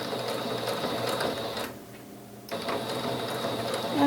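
A domestic sewing machine stitches across a strip of elastic, running steadily and close, pausing briefly in the middle before the motor whirs again.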